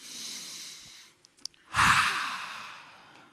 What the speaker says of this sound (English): We take a deep breath together.